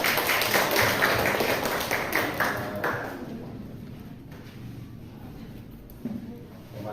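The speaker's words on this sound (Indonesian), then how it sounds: "Silakan tepuk tangan untuk mereka." Classroom students clap for a presenting group, a short burst of scattered clapping that fades within a few seconds into quiet room sound with a few faint taps.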